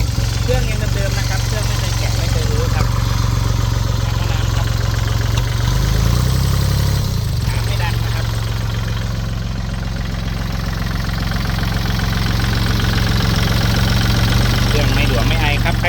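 A Kubota L3408 DI tractor, a used machine with a modified exhaust pipe, idles steadily with a low, even engine drone that runs continuously throughout, close and fairly loud.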